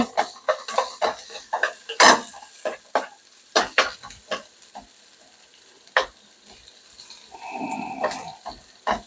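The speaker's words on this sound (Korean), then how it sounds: "양파를 볶겠습니다" Onions stir-fried in oil in a pan for japchae, heard as a series of close scraping and tapping strokes of a utensil with a light sizzle rising near the end, no speech.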